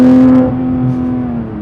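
A 2019 Porsche 911 GT3RS fitted with an AWE switch path exhaust lets out a loud, high-pitched rev that peaks in the first half second, then holds a steady droning tone as it eases off.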